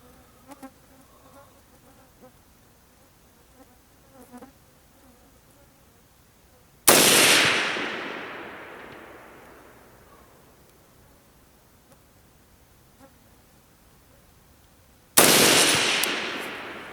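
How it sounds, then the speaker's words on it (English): Two loud, sharp rifle shots from a Colt M4 carbine fired slowly at a paper target, spaced about eight seconds apart, each cracking sharply and then ringing out in a long fading echo, with faint background hum between them. "That first set of shots was slow, even shots, and weren't the best well-aimed shots."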